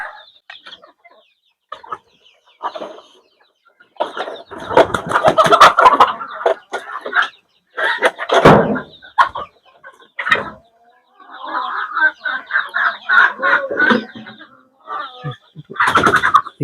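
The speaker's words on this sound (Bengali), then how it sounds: "এই হলো ভাইয়ের ডিমের মুরগি" Laying hens on a desi chicken farm cluck and squawk in close, irregular bursts separated by short pauses, loud and near, with several birds calling at once in places.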